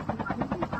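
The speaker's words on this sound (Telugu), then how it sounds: "నాకు హెలికాప్టర్ దొరికింది." Helicopter in the Call of Duty Mobile video game, a steady rhythmic rotor thump pulsing several times a second at moderate loudness with faint voice in the background.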